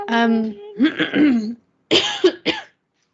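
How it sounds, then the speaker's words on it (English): A person recovering from whooping cough coughs and clears their throat several times close up, in short harsh bursts separated by brief pauses. "I'm like still getting over my whooping cough"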